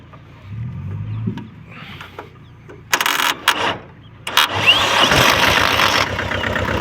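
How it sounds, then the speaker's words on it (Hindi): After a few quiet knocks, a tractor engine cranks in short bursts, then catches and settles into a loud, rough idle nearby. "ये देखो हो गया ना चालू ट्रैक्टर।"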